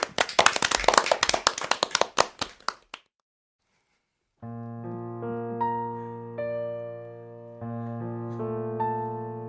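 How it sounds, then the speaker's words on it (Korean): A concert audience at a Korean religious vocal-ensemble performance claps loudly and briskly for about three seconds, then falls silent before piano accompaniment begins with sustained chords. "박수로 청해 듣겠습니다"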